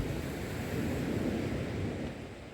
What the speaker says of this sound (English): That wind is starting to get up